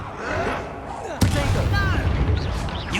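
In Hogwarts Legacy, a cast Incendio fire spell bursts out with a sudden loud whoosh-boom. A roaring, crackling rumble follows, mixed with game effects and a voice.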